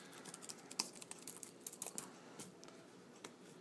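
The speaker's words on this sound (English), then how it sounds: "Just playing around with the keys to see if anything feels stiff" Typing on the QQ Tech iPad Mini case's Bluetooth keyboard, with its laptop-style keys, gives quiet, irregular clicks and taps in a quick, uneven rhythm, close and alone with no voices.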